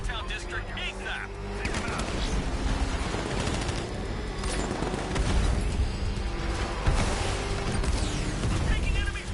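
Enemy gunfire in Batman: Arkham Knight, continuous rattling shots and blasts mixed into a dense, loud game soundscape of engines and explosions that runs the whole time.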